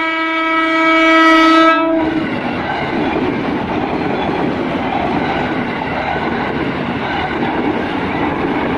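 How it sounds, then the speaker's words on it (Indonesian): A KRL commuter electric train sounds its horn, a steady harmonic tone for about two seconds, then pulls away and picks up speed with a loud continuous rumble and rail noise. "Satu lima satu tujuh sudah berangkat. Oh langsung ngebut nih."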